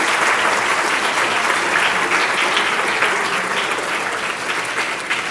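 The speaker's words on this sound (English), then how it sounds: "Please give a round of applause to all the dignitaries present on stage." Applause from an audience honouring dignitaries on stage at the inaugural function of World Space Week 2023, a dense, even round of clapping from many people, filling the whole stretch and fading slightly toward the end.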